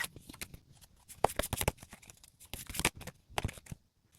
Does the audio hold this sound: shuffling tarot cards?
yes